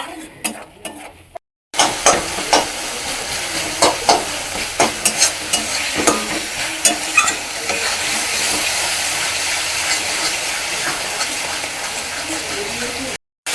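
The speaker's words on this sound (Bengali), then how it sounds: "এবার আমি পুরো মশলাটাকে আমি রেডি করে নেব, কষিয়ে নেব।" Spice masala for egg curry is sautéed in a pan with a little oil: a steady, close sizzle runs throughout, broken by repeated scraping stirs, after a brief quiet gap at the start.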